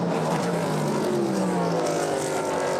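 Endurance race cars, including a Cadillac and Porsche prototypes among GT cars, roaring side by side at the São Paulo round of the FIA WEC, a loud continuous engine drone with shifting pitch and no talk.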